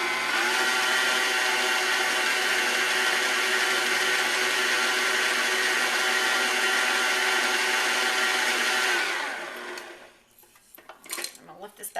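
An electric mixer whirs steadily through cinnamon roll dough with flour, a loud constant motor hum with rattling beater noise that holds for about nine seconds, then winds down and stops, followed by a few light clinks.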